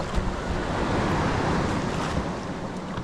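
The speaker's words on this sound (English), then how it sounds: "Out there we've probably had near enough 6-foot waves" Heavy surf from roughly six-foot waves breaking onto the beach at Pangkor Island at high tide, a continuous loud wash and roar with wind noise buffeting the microphone.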